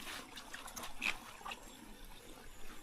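Water trickles through a hole in the earthen bank of a flooded rice paddy, a soft, steady close dribble with faint outdoor background and no speech.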